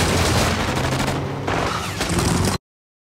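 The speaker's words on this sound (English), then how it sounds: "That sounded a lot like the SMG gun sound effect in GTA 5." Submachine gun fire from a movie scene comes in loud, rapid bursts, one sustained rattle followed by a brief gap and then another burst that cuts off abruptly, with no talking.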